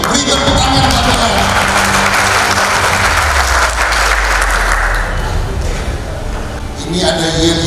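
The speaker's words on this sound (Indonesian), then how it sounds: "Beri tepuk tangan buat Tuhan." Loud applause from a large audience at a gathering, dense and sustained, with shouting and voices mixed in throughout.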